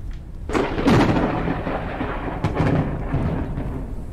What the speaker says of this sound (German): Ich hasse dieses Gewitter, ne?